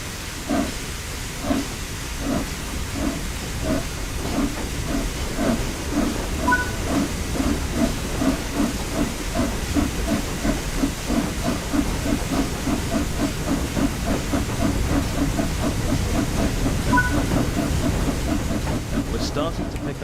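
The Flying Scotsman steam locomotive pulling away in Train Sim World 5, with steady rhythmic chuffs and a continuous hiss of steam rising slowly and evenly, close and loud throughout.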